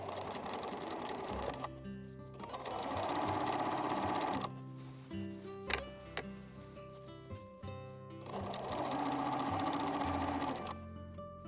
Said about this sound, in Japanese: ウエストベルト布の端をトップスの裏側に縫い付けていきます。